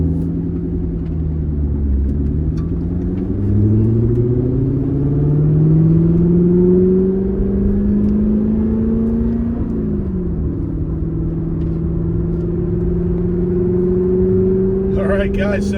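Corvette C7 ZR1 supercharged V8 droning steadily from inside the cabin as the car cruises, engine pitch rising and falling smoothly through gear changes, with people talking quietly over it.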